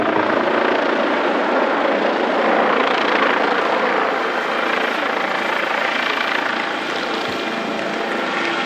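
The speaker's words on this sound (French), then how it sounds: "Le H160 a ainsi exécuté hier son 5e vol." An Airbus H160 helicopter in flight at Marignane, a loud continuous rotor and turbine roar that holds steady and dense for the whole stretch, with no voices.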